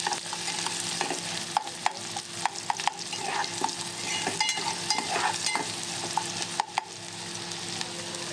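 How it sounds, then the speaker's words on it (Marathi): Chopped onions frying in a pan until browned, a constant close sizzle punctuated by regular sharp clicks of a spatula scraping and knocking against the pan. "कांद्याला चांगलं लाल परतवायचं."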